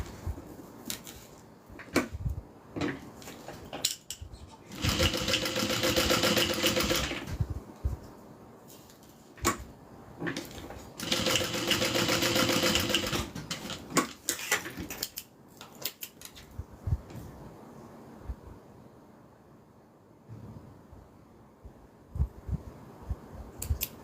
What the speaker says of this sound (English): Let me go ahead and sew down our crossbody strap connectors